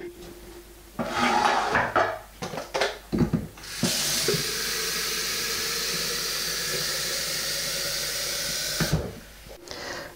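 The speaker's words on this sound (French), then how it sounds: "Je vais remplir d'eau." Tap water runs into a container, starting with some handling clatter before a steady, loud hissing stream that holds for several seconds and then cuts off.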